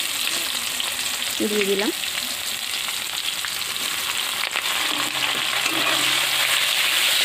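Chopped onion and a bay leaf fry in a pan with a loud, steady hiss that fills the scene; a voice speaks briefly near the start.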